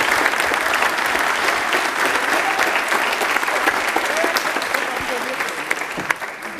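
A studio audience at a televised Indian Railways quiz applauds a contestant, dense steady clapping filling the whole stretch at moderate loudness and tapering slightly toward the end.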